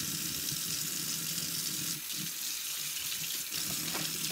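Tap water runs steadily over a Breyer model horse in a sink, giving a continuous rushing, splashing stream with small shifts as the flow hits the model.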